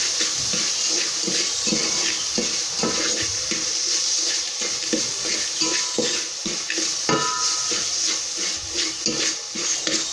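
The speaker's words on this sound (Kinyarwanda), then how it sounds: "Isukari ndi kubanza kuyiyengesha." Sugar melts and caramelizes in a pot as the first step of African tea, giving a steady close sizzling and bubbling with faint stirring scrapes throughout.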